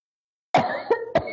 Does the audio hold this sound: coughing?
yes